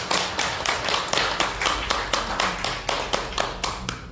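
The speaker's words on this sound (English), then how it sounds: "please a round of applause for our speakers before we move on to the next part of the" Steady, evenly spaced claps at about two to three per second ring out from an audience at a crypto meetup fireside chat, fairly close and with no talk over them.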